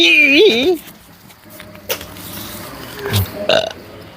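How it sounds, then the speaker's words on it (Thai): A loud, voiced burp erupts at the start, followed by quieter clicks and small mechanical knocks in an indoor setting. "เรอนิดหน่อยนะสิ"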